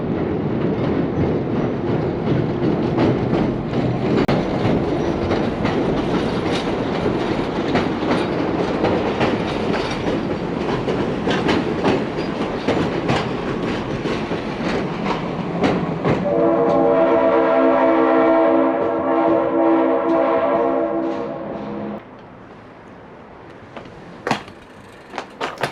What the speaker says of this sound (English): Oh, look at this train.